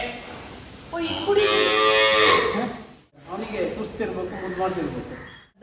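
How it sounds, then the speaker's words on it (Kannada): A calf moos twice nearby at a cow shelter in Shivamogga, a long drawn-out bellow followed by a shorter, rougher call, loud and clear in an open outdoor setting. "ಅದು ಕರು ಕೂಗುತ್ತೆ"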